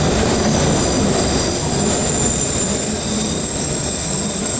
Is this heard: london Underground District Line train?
yes